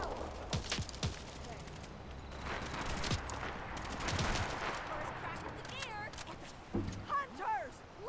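Gunfire during a fog battle in modded Fallout 4 Far Harbor, several sharp shots and short volleys scattered over roughly eight seconds amid game ambience, with shouting voices in between.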